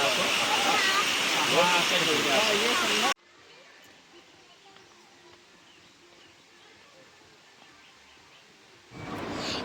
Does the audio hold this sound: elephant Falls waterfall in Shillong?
yes